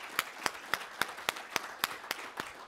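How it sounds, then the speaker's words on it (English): A conference keynote audience claps in a steady, evenly spaced rhythm of sharp hand claps, about four per second, with no voices over it. "just another round of applause"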